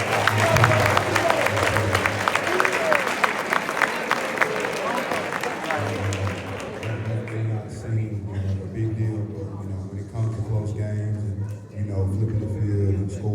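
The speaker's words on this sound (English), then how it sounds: "I would like for y'all to give that group a round of applause" Banquet audience at a high school football awards night applauds the kickoff team, a dense wash of clapping that thins somewhat partway through, with a speaker's voice talking over it at times.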